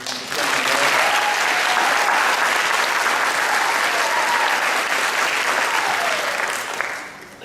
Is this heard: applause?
yes